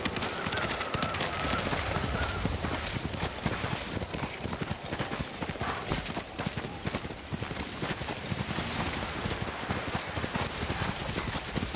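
Horse hooves clip-clop steadily through the whole stretch of a snowy ride in the samurai game Ghost of Tsushima, dense and continuous under wind, with bird calls and occasional talk mixed in.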